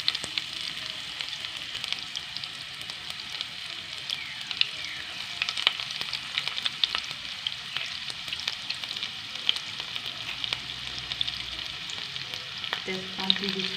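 Onions frying in oil in a pan for jeera rice with omelette curry, a steady close sizzle with scattered light stirring scrapes throughout, no talking.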